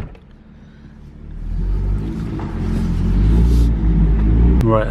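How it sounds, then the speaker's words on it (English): A BMW M2 with a freshly fitted, bedding-in exhaust idles, then its engine swells into a deep, loud, close rumble that grows and holds steady, with a brief sharp rising squeal right at the end. "I want to give you guys some proper sound clips to show you how the exhaust is sort of bedded in."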